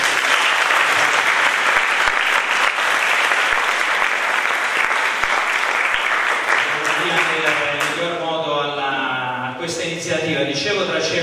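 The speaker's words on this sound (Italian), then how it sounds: "facciamoci un applauso" A dense, steady round of audience applause fills an evening community event opening, holding strong for several seconds before thinning out as a voice begins speaking over the last of the clapping.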